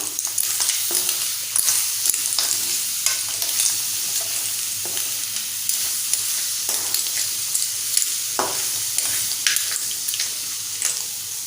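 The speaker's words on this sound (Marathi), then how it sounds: "एक शेवगाची शेंग घेतले साफ करून ती पण घालूया आणि छान मिक्स करूया" Cleaned clams in a Malvani-style masala, with a drumstick pod added, sizzle and are stirred in a pan, a steady close frying hiss broken by intermittent scraping and clinking strokes, with no speech.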